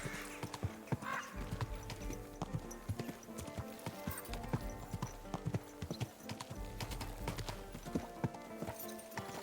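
A horse in Kingdom Come: Deliverance II clops along with steady hoofbeats and lets out a whinny, with faint game ambience around it.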